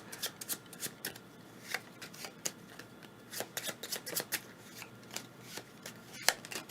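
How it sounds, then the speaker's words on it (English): A deck of cards for a board game being shuffled by hand, with repeated quick riffles and bursts of sharp flicking at close range, no voices. "we need to shuffle up his deck"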